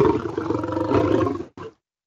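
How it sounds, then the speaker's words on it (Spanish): Sound-effect roar of an Indosuchus, a carnivorous dinosaur: one long, loud, rasping growl lasting about a second and a half, then a short second burst before it cuts to silence. "Vamos a escuchar ahora su rugido."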